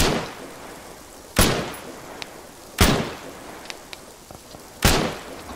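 Gunfire in the video game Arma 3 on the Tanoa map, three loud, sharp isolated shots spaced a second or two apart over quiet background ambience.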